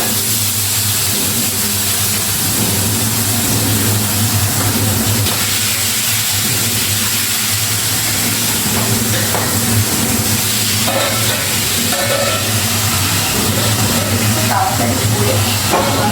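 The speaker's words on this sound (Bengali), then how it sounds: "একটু সরিয়ে নিয়ে মাছটা দেব। কারণ বোয়াল মাছ ভীষণ ফোটে" Boal fish fries in mustard oil, giving off a loud, steady hiss of sizzling and spattering fat that fills the whole stretch, with faint clatter and movement in the background.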